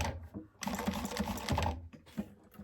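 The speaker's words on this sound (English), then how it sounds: "I'm just going to hand crank because, again, I am just stitching down along the side of that instead of on top of it" A hand-cranked sewing machine stitching along the side of trim on a garment, a quick rattling run of needle strokes lasting about a second and a half, with a few softer clicks before and after, close and quiet.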